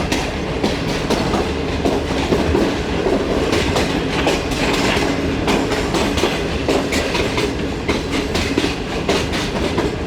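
The Shalimar Express runs on rails bound for Lahore Junction, a continuous loud rumble with steady clickety-clack wheel beats heard from on board the train throughout.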